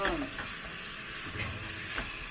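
Garlic stir-frying in scallion oil in a home kitchen, giving a soft, close sizzle and crackle with faint scraping of the pan.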